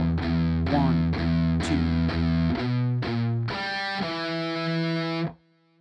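An intro riff on heavily distorted electric guitar, a steady run of punchy palm-muted and open notes in even rhythm, ending on a brighter sustained chord that cuts off abruptly.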